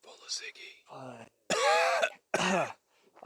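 A few short, rough coughs and throat-clearing sounds come close up, separated by brief pauses, alongside some murmured vocal noises.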